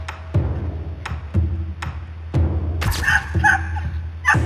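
Stray puppies, feral dogs near traps on Bukhansan mountain, give a quick series of sharp, close barks and yips with short gaps between them.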